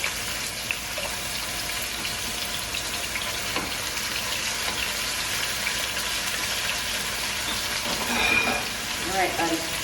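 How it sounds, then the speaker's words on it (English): Seasoned chicken pieces laid into a hot pan for chicken paprikash, giving a steady, even sizzle throughout with faint kitchen clatter; voices talk over it now and then. "I'm gonna take our chicken that we seasoned here, and we're gonna put them in seasoning side down."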